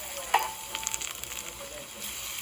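Garlic sizzles in a pan with shallots and thyme for a lobster pasta, a bright continuous hiss with a quick utensil tap early on and light crackles throughout.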